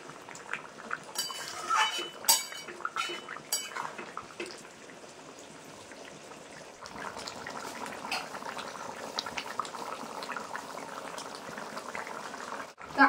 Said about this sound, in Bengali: দিয়ে একটু নেড়ে নেব।